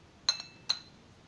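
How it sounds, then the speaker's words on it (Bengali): A bowl is set down for a paneer salad, giving two quick, bright clinks about half a second apart, faint and close in an otherwise quiet kitchen. "তো আমি একটি বাউল নিয়ে নিচ্ছি।"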